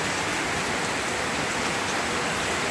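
Heavy rain pours steadily during Hurricane Irma in western Puerto Rico, a dense, even hiss of falling water that stays loud and unbroken throughout with no voices.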